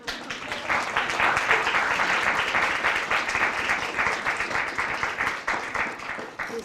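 Listeners at a university poetry reading give steady, full applause, a close wash of many hands clapping throughout.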